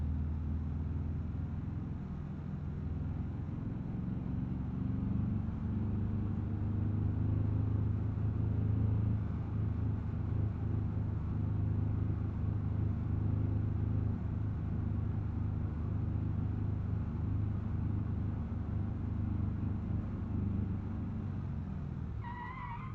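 Steady low engine drone of a car in BeamNG.drive climbing an uphill road under light load, a continuous rumbling hum holding at an even level throughout with no voices.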